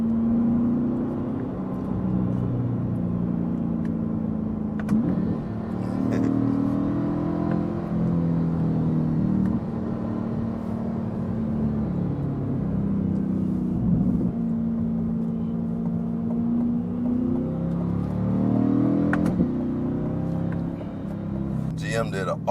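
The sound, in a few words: Chevrolet C8 Corvette exhaust while driving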